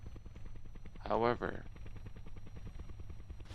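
A helicopter rotor spins in Kerbal Space Program, making a steady, evenly spaced chopping pulse that runs through the whole clip. A brief, louder vocal-like burst rises over it near the start.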